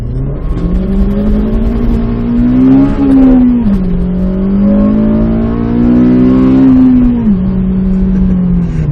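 A Honda car engine revs hard as VTEC engages, heard from inside with traction control on. The steady, loud engine note climbs in pitch and drops back briefly twice as gears change.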